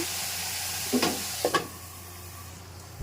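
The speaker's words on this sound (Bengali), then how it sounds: "দেখছেন, এখন ভাজবো।" Chicken fries in a pan with a splash of vinegar, a steady hiss of sizzling throughout, broken by a few sharp clatters of a utensil against the pan near the middle, close and moderately quiet, no talking.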